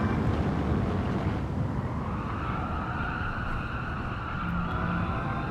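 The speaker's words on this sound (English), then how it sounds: "Very squealy car, isn't it?" Car tyres squealing in a sim-racing time trial, a continuous high whine held over a low rumble of wind and road noise, with little engine sound, steady and close throughout.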